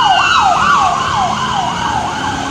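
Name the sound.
police car sirens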